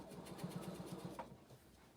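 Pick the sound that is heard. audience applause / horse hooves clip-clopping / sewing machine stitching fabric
sewing machine stitching fabric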